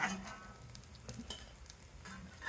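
Sago cutlets shallow frying in a pan, giving a faint, steady sizzle with occasional soft scrapes and clicks as the pieces are turned and lifted out.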